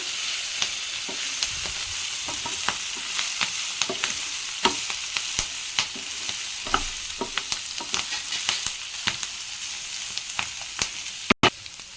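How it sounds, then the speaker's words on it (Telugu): Raw banana pieces and ponnaganti leaves sizzle steadily in a pan, broken by repeated sharp scraping and clacking from a spoon stirring them, ending with one loud knock. "ఇప్పుడైతే ఆకు మొత్తం వేసుకొని మంచిగా మిక్స్ అయ్యేటట్టు మిక్స్ చేస్తున్నాం"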